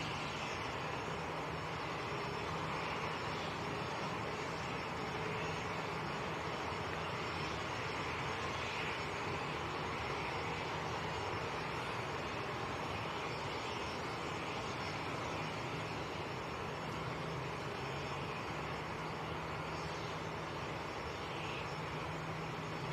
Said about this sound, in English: We've now got 6 aircraft on the south side. With more coming, with more taxiing out.